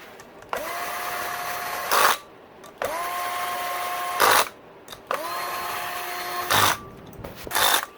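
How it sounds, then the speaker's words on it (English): A Black & Decker cordless drill whirs in three separate bursts snugging down bolts on a KTM 250 SXF engine top end, each pitch rising briefly then holding steady, ending with a short tightening surge before stopping. "Like I'm using this cordless drill, this Black & Decker here."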